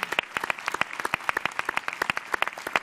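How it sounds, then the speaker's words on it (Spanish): An audience at a creativity talk claps in dense, rapid, uneven bursts, forming steady applause close up throughout with no voices over it. "Otro aplauso grande para Miriam."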